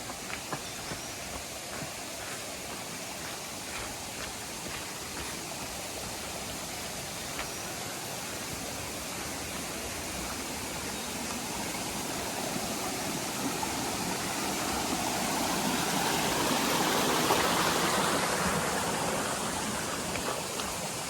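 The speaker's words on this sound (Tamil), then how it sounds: "வந்துட்டோம் ஒரு வழியா மாங்கனி ஓடைக்கு." A mountain stream on the Sathuragiri hill pilgrimage route, known as Mangani Odai, rushes with steady broadband hiss, swelling a little louder toward the end, with no voices over it.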